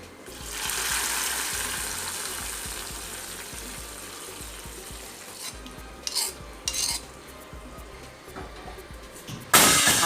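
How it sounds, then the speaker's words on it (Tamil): Mustard seed and curry leaf tempering being stirred into black mochai tamarind kuzhambu, a steady sizzle and pot-scraping clatter with a few spoon knocks and a sharp burst near the end, no talking. "இப்போ இந்த தாளிச்சத்தை குழம்புல சேர்த்துடலாம்."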